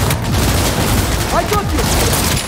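A grenade blast in the game Cyberpunk 2077, set amid a continuous roar of gunfire and combat noise, with a voice briefly heard over the dense, loud battle din.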